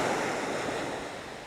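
Gentle sea waves wash against breakwater rocks on the coast of Tenerife in November, a steady, close hiss of surf and water with a light rush of wind and no distinct crashing breaks.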